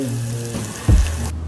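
Freshly roasted ribs, just uncovered from foil after oven roasting, give off a soft, steady sizzle of bubbling fat with a brief louder crackle near the middle. The sound is close and continuous, with no talking.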